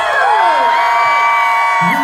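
A lively crowd at the Cheongsong Apple Festival cheers and whoops loudly and continuously for a singer, with high shouts rising over a steady roar of voices.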